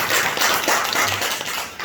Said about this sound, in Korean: 다시 한번 우리 환영의 박수 드리겠습니다.